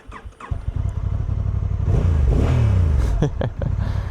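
A 2025 Honda NT1100 motorcycle engine cranks and catches, then settles into a loud, close idle with a brief rev; a voice is faintly present.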